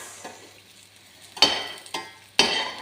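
Zucchini and egg sautéing in a pan, with a soft steady sizzle broken by three sharp stirring clatters of a utensil against the pan, close and clear.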